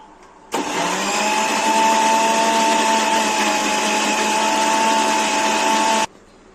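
An electric blender grinds a mango milkshake with vanilla or butterscotch ice cream under a closed lid, starting abruptly, running as a loud, steady whir for about five and a half seconds, then cutting off.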